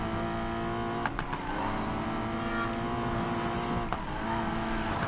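A Porsche GT4 racing in Need for Speed Payback, its engine roaring steadily and loudly throughout with brief gear-shift dips and a few sharp transients.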